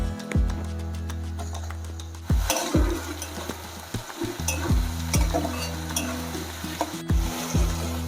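Prawns sizzle and fry steadily in a pan up close, broken by repeated scraping and clattering strokes of a spatula stirring.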